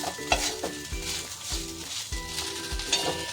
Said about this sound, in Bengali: এইভাবে সুন্দর করে ভেজে নেবে।